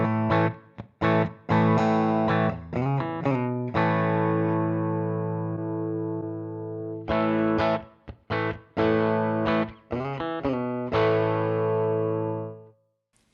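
Electric guitar through a Fractal modeler's Pig amp model, a distorted tone with chopped rhythmic chords, short bends and sustained ringing notes, loud and close with brief pauses and no talking.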